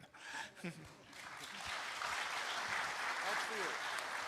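An audience at a Go programming conference panel in Berlin breaks into applause, a few scattered claps first, then swelling into steady, sustained clapping from many hands across the hall.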